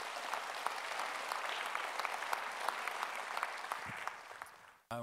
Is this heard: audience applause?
yes